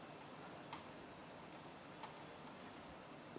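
Quiet computer keyboard typing, a few light scattered key clicks over a faint steady room hiss, no talking.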